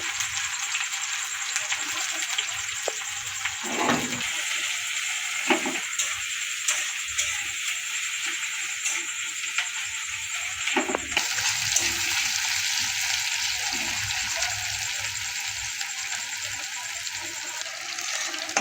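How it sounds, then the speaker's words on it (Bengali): Sliced onions sizzle steadily in hot oil in a home kitchen, a continuous close frying hiss with occasional clicks and stirring sounds. "পেঁয়াজটা ভাজা ভালো করে লাল হোক,"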